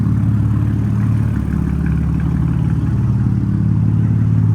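A 2018 Chevrolet Camaro 1LT RS engine runs steadily and loud up close, a deep idling rumble with a faint clatter and no talking.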